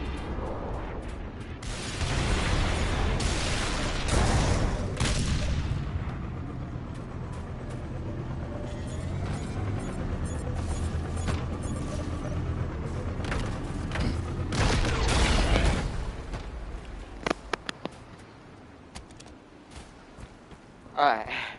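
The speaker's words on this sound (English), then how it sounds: "did it blow up my ghost? I heard an explosion." Deep booms and rumbling explosions mix with bursts of gunfire during a Halo campaign battle on PS5, loud and sustained for most of the stretch before thinning to scattered sharp cracks, with a player talking over parts of it.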